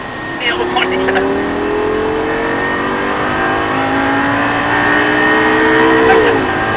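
A Lamborghini engine revs hard as the driver gets back on the throttle on a racetrack, its pitch climbing steadily in a loud, close roar with a brief shift dip near the end while someone talks over it.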